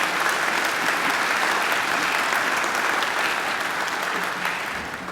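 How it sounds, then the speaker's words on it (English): Graduation ceremony audience at Macquarie University applauds the graduation unit staff, a loud, sustained burst of many hands clapping together that tapers slightly at the close. "Give them another clap."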